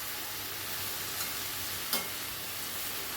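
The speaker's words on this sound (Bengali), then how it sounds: "আবার একটু ভালো করে মিশিয়ে নিচ্ছি সব কিছু।" Snake gourd curry sizzles softly in a pan while being stirred, giving a steady faint hiss with a couple of brief scrape or tap clicks near the middle and no voices.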